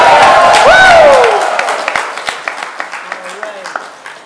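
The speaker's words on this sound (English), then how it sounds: "Can I get a round of applause?" Live audience at a school show breaking into loud cheering and whoops, then fading into a spatter of scattered claps, close and bright over a room crowd.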